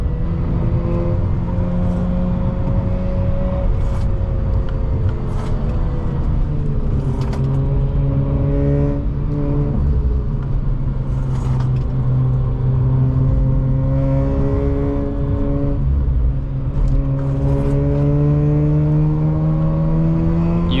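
A sports car drives on damp roads, its engine a close, continuous drone whose pitch climbs and drops repeatedly through acceleration and gear changes, with no talk over it.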